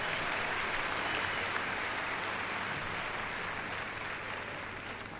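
Steady applause fills a Crufts arena after a freestyle heelwork-to-music dog routine, a dense wash of clapping that holds strong and tapers slightly toward the end.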